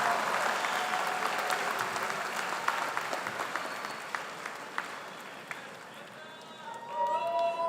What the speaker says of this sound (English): One more round of applause for the 2023 graduates of the Master of Science in Management.